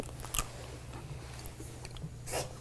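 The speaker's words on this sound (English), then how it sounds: "Keep chewing." Jelly beans being chewed close up, with quiet soft crunches and a few sharper bites over a low steady hum, no talking.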